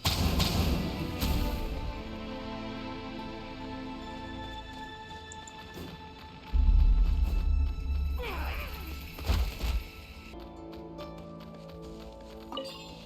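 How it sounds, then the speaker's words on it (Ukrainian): A barrel launched in a video game slams into a wall with a heavy, booming crash, followed by tumbling thuds and debris clatter over a faint ambient game score. "Беремо один з логістонських бочок з ліворуч і пускаємо його в стіну праворуч, щоб відкрити новий шлях."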